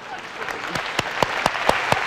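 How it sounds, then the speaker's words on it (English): Scattered audience clapping at a programming conference talk, a handful of sharp claps at a steady, quickening beat that grows slightly louder over a couple of seconds, with no voices on top. "I don't know why you're clapping"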